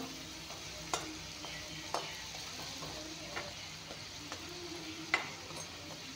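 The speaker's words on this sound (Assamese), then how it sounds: "ধুনীয়াকৈ ভাজি ল'লোঁ।" Chopped shrimp fry in a pan with a soft, continuous sizzle, broken by regular spatula taps and scrapes about once a second.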